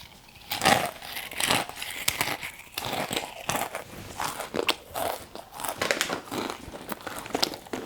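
Roller Coaster ghost pepper flavored snack being bitten and crunched close up, with irregular crisp bites, crackles and packet crinkling in bursts, no talk.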